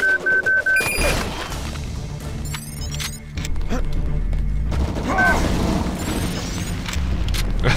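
Rocket explosions in the video game Deus Ex: loud, sustained booming blasts and crashing detonations that roll on continuously, mixed with game sound effects and a voice speaking over them.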